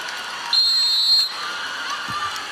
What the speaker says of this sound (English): And a quick whistle there